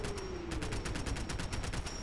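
A .38 machine pistol, a Mac-11, fires in Fallout 4 in one steady fast burst of evenly spaced shots lasting the full two seconds, fairly quiet and alone.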